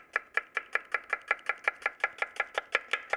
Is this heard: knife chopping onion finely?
yes